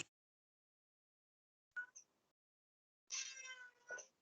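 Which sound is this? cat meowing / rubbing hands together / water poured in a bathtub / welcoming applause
cat meowing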